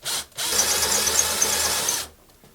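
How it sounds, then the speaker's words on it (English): A carbide-tipped cutter head with a 3/8-inch reamer squares the end of an antler pen tube on a lathe, giving a loud whirring grind that lasts about a second and a half before spinning down. "I've got my carbide tipped cutter head with my 3/8 inch reamer"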